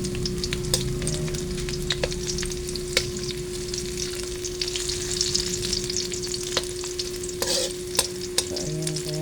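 Garlic sizzles and fries steadily in a hot pan while being stirred, with scraping clicks of the utensil throughout; a continuous close sizzle with no talking.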